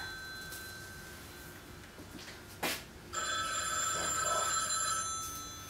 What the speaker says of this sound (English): I'm going to bring it down here and answer the phone.